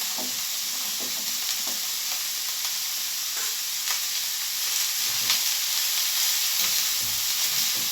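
Vegetables for veg fried rice stir-fried on an Elica gas hob, with a constant loud sizzle and repeated scraping stir strokes throughout.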